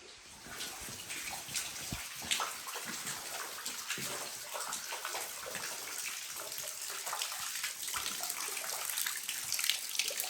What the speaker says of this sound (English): Right here is one of the places where the water seeps